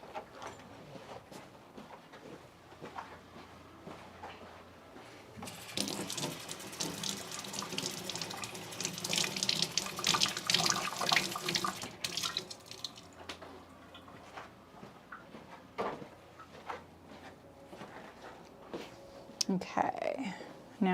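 A tap runs into a sink for several seconds, a steady rushing stream nearby, with someone talking quietly and rustling around before and after.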